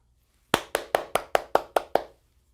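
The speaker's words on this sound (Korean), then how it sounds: "큰 박수로 맞아주세요." An audience at a seniors' college event claps eight times in unison, sharp, evenly spaced claps in a quick burst of about a second and a half, with silence before and after.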